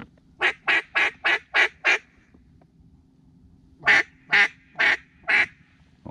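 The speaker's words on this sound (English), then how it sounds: "That's two mottled ducks." Two mottled ducks calling in Louisiana marsh during a hunt, two rapid runs of loud, nasal quacks, six in the first and four in the second, separated by a brief quiet gap.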